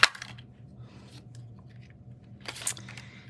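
Paper punched with a 1.5 inch circle punch in a card-making setup: a crisp snap at the start and another crunchy clack later, close and quiet, with faint handling rustle between.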